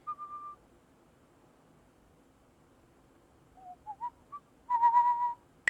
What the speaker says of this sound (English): You can now hear a person whistling.